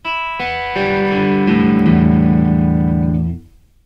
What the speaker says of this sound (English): with picking individual strings, it sounds like this.